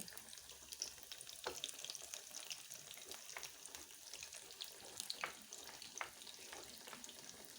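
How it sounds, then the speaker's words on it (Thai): A few pieces of taro frying in hot oil, a steady close crackle and sizzle with scattered sharper pops, moderately quiet and continuous, with no voices. "ทอดเผือกโชว์สัก นิดหน่อยนะคะ สี่ห้าชิ้น"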